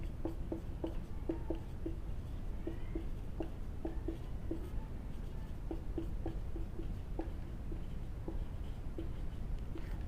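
A solution for a Class 10 maths check is written out, giving faint, soft scratching and tapping strokes in quick irregular bursts over a low, steady room hum.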